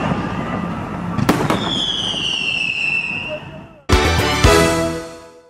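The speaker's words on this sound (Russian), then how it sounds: "Завершилось празднование великолепным фейерверком." Fireworks close the evening of a city day celebration, with whistling rockets rising and then loud crackling bursts, near and dense, over ambient crowd noise.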